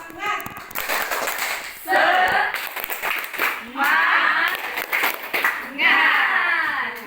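Children in a classroom doing tepuk semangat, a rhythmic group clapping cheer, claps bursting in repeated waves over loud chanting voices, fairly close and energetic.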